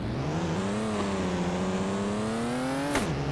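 A car engine in a parking game revs steadily and holds a droning, rising pitch for about three seconds. It is close and fairly loud, then a sharp click is followed by a drop in revs, with no talk over it.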